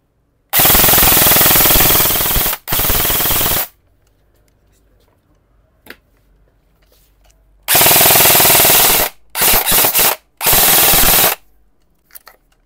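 SIG MCX Virtus airsoft rifle, an S004FDE project unit with an ENC 120-round mid-cap magazine, firing on full auto: loud close bursts of rapid rattling fire, a long burst, a second burst, a pause, then several shorter bursts separated by brief silences.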